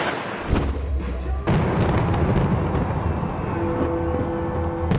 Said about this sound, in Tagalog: Ang kanilang fireworks show nasa ibabaw ng iconic na Edinburgh Castle